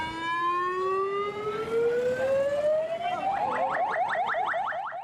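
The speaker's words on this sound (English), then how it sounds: "Ambulances screeched through Galle" An ambulance siren in Galle, Sri Lanka wails with a long rising tone, then switches to a rapid yelping pattern, loud and fairly close against background noise.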